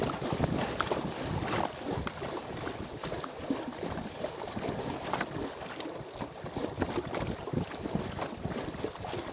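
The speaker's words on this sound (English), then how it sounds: "Wind is solid." Steady broadband wind rush while a sailboat moves through open water away from islands, with continuous buffeting against the microphone and faint water wash beneath, constant and close.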